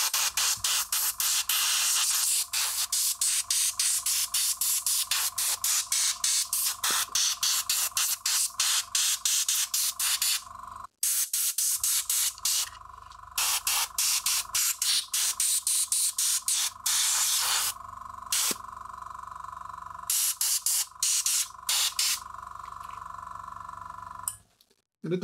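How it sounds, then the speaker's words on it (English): An airbrush compressor run at maximum pressure as an air blower gives rapid bursts of loud, sharp hissing that break off in short gaps and start again many times. "this thing with nothing inside here is actually just working as an air compressor, a blower"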